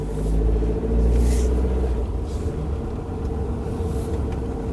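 A car rumbles out of a driveway at low speed, its engine a steady close drone with a deep low hum and no talk over it.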